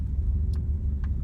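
A 1994 Dodge Dakota with a transmission problem sputters along at low speed, producing a close, continuous low engine rumble with a couple of faint higher ticks.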